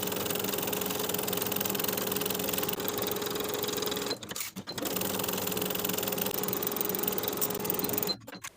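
Sewing machine running steadily while stitching the side tie pieces, a close, continuous motor whir with two brief pauses near the middle and the end.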